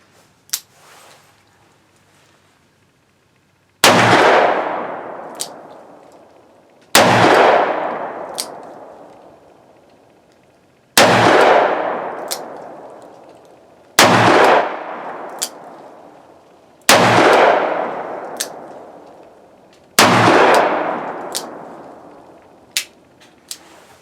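Rossi RP63 .357 Magnum revolver firing six loud, sharp shots spaced a few seconds apart outdoors, each with a long ringing decay, plus small metallic clicks between shots.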